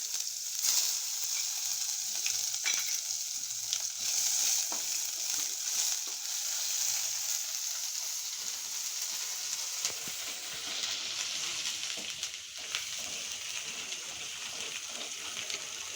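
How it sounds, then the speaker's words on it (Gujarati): Potatoes sizzling in hot oil with spices, a steady bright hiss of frying with occasional stirring clatter, fairly quiet and continuous, with no one talking. "તો હાલો આપણે પહેલાં બટેટાને વઘારી નાખી."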